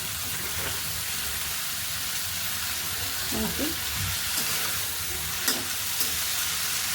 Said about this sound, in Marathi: पहिली भाजी आपल्याला हलकी तेलावरती परतून घ्यायची आहे